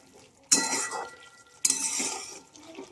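A pot of ghevda (flat beans) cooking in masala is stirred with a utensil in two loud bursts of scraping and clinking, each lasting about a second, with quiet gaps between them.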